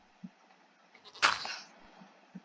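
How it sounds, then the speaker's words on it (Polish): A goat in the Minecraft video game gives one short, bright bleat in a quiet cave, with soft clicks before and after it. "Co to było? Koza pewnie."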